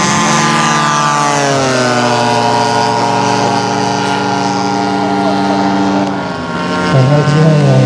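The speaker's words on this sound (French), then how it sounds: "Un avion tandem." A tandem-wing RC model airplane flies overhead at a model flying event, its propeller engine a loud, continuous buzzing whine that slowly shifts in pitch, with a voice heard talking over it.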